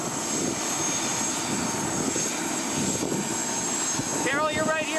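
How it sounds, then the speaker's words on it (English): A steady helicopter engine drone hums continuously nearby, with a voice briefly speaking near the end. "We're going for a helicopter ride."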